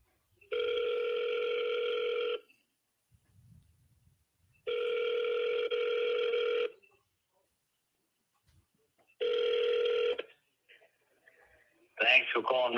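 Telephone ringback tone on an outgoing call to a real estate agent's cell phone: three long, steady electronic rings separated by silent gaps, close and clear, followed by the start of a voicemail greeting.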